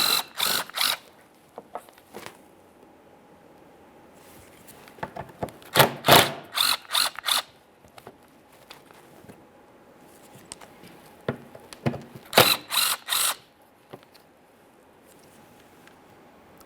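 Ratchet clicking in several quick bursts as 10mm mounting bolts come loose across the front of a 2013-2020 Ford Fusion, with quiet pauses and small clanks between, close and fairly loud with no talking.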